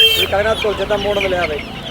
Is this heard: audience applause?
no